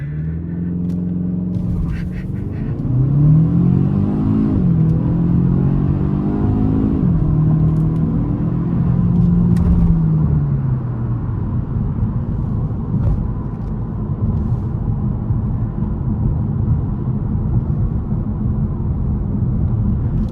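A Kia Stinger 2.5T launches hard from a brake-torqued standstill with traction control off for a 0-60 run, its engine roaring loudly as it climbs through the gears in rising sweeps, with shift breaks and a steady drone as speed builds.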